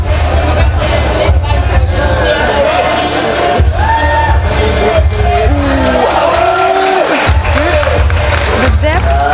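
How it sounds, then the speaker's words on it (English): Crowd at a Dutch national judo championship cheering and clapping in a big hall, a steady roar of applause and shouts with some whoops, with voices talking loudly over it. "Give him a round of applause"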